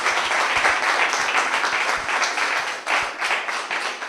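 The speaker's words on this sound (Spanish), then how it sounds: "Un aplauso fuerte al Señor." A church congregation claps loudly in praise after prayer, dense sustained applause filling the room with some sharper individual claps near the front.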